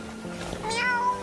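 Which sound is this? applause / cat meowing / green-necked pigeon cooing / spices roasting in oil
cat meowing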